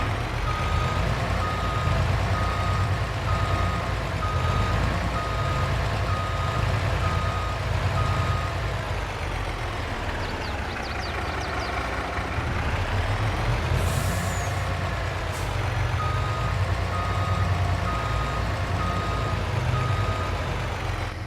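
A farm truck reversing, its steady repeating beeps running over a continuous low engine rumble, with a short hiss of air brake release partway through, fairly close.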